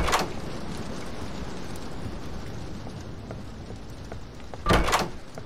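A door opens in the horror video game Doors, heard as a sharp burst against a steady rumbling ambient background, one clear loud hit near the end and a softer one at the start.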